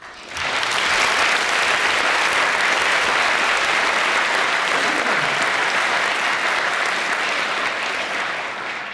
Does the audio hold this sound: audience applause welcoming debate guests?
yes